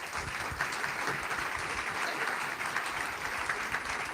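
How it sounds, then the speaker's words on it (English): A pub audience applauds a politics panel, giving steady, even clapping from a small room. It is fairly faint and continuous, with no voices over it. "Please give our panel a round of applause."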